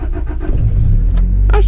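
A Honda Integra engine cranking and catching on a cold start, a loud low rumble swelling into a steady idle with a few clicks and brief noises on top.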